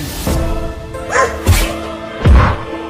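A cartoon dog barks in several short yipping bursts, loud and close, with gaps between them and a whimpering quality to some barks.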